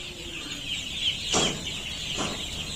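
Young poultry chicks in a brooding partition on a farm, with a couple of brief chirping peeps standing out over a steady background hum.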